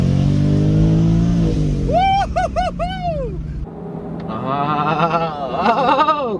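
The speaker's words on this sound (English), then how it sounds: "first startup inside the car with the Procharger. Procharged 2021 Mustang." A Procharged 2021 Ford Mustang GT idles with a deep rumble inside the car, then gives several quick rising-and-falling revs, followed by a longer, louder rev carrying a high supercharger whine.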